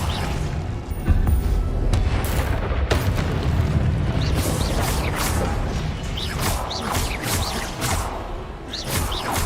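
A Confringo blast spell in Hogwarts Legacy goes off with a deep boom and fiery whoosh, followed by crackling magical bursts and sparkling swishes that continue over the rest of the clip.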